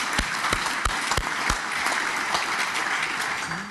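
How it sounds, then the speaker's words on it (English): A conference audience claps for the panelists at an airport investment session, a steady moderately loud applause with some sharp individual claps standing out, lasting the whole stretch. "Let's give them all a round of applause"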